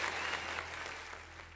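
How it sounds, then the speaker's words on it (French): Indoor audience applause at a French-language show or interview, a dense wash of clapping that starts strong and slowly fades. "S'il vous plaît, des applaudissements pour Papa Ado."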